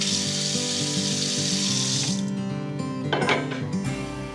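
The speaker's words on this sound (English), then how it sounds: "I'm gonna rinse my beans" Water runs steadily into a pot as dried pinto beans are rinsed, a broad rushing splash that fills the first half and then thins out over faint background music.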